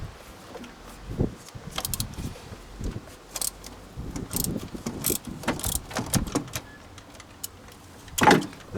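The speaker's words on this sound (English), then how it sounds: "First of all, let's get those screws out of there. A long bar and a 6mm Allen key makes the job easy." Turbo screws on a VW T5 2.5 TDI AXD engine being undone with a long bar and 6mm Allen key, giving scattered metallic clicks, ratcheting and clinks at close range, with one sharper clank near the end.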